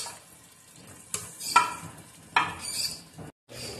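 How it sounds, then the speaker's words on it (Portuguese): Chicken sizzling and crackling in a hot pan with garlic, with a few louder bursts as it is stirred or turned, no voices. "tô aqui fritando o franguinho"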